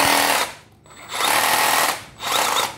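A Makita 14V cordless battery drill from a Japanese surplus lot whirs loudly in two bursts separated by a brief pause, its motor whine starting and stopping sharply at close range.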